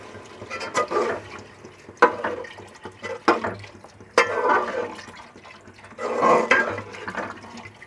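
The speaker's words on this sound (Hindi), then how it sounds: "अब हम इसमें पानी डालेंगे, उतना पानी डालेंगे कि आलू इसमें गल जाए।" Water poured into a cooking pot holding browned chicken and potato chunks for a shorba, a splashing flow that surges in several bursts and lulls over a steady low hum, with no talk.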